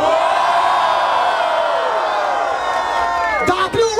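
A large crowd roars and cheers loudly at a freestyle rap battle in São Paulo, a dense sustained wall of whoops and shouts that swells and then breaks into sharper yells near the end.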